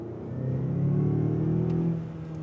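2025 Mazda CX-5 Sport Design turbo engine accelerating through a 6-speed automatic, a close, low rumbling drone that swells and rises in pitch before easing off.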